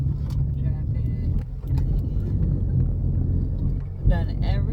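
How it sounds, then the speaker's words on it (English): Steady low engine rumble and road noise fill the cabin of a car driving through town traffic, with wind buffeting and a voice speaking over it. "Traffic."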